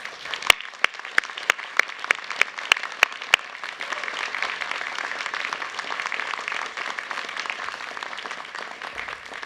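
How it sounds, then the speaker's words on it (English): Graduates at a university science faculty ceremony applaud their families and friends: a few sharp, separate claps open into a sustained, dense round of applause from a large indoor crowd, steady and fairly loud throughout. "give them a round of applause"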